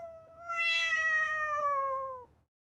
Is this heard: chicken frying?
no